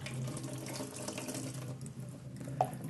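Water pours in a steady, continuous stream into a container nearby, the flow running evenly throughout with a brief brighter splash near the end.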